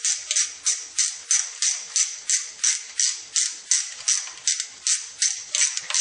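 Ratchet wrench loosening engine bolts on a Honda Prelude, from the alternator and valve cover; a rapid, even run of close, crisp metallic clicks repeating steadily about twice a second with no talk.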